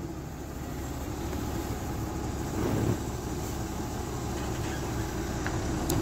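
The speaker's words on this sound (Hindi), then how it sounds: "चलो गियर डाल के आगे लो।" A Mahindra Blazo 31 tipper truck with freshly repaired clutch pulls forward in gear, its diesel engine giving a steady low rumble at moderate distance, swelling slightly midway.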